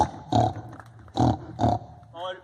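A voice imitates a wild boar as part of a mimicry performance, giving three short, loud, rough grunting snorts close up, then a higher squealing note.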